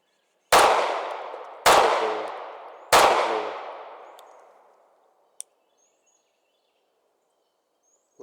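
Three sharp gunshots ring out during a cadence shooting drill, evenly spaced about a second apart, each loud crack followed by a long decaying echo before silence and a faint later click.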